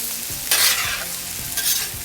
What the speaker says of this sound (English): I'm gonna flip the potatoes really quick.